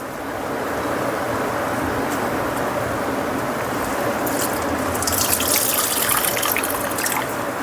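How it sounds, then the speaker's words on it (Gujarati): Water is wrung out of salted, shredded cabbage bundled in a cotton cloth, making a loud, continuous close-up stream of trickling and pattering that grows slightly hissier toward the end; no one speaks. "તો હવે આપણે તેને આ રીતે કરીને પાણી નીચોડવાનું છે."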